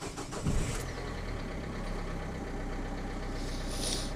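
A car engine runs steadily at a low, even idle for a few seconds, with a slight rough rumble and no one speaking.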